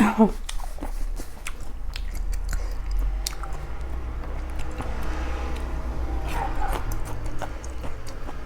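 Close crunchy chewing and biting of spicy seafood papaya salad, steady wet mastication with crisp bites scattered throughout, loud and near.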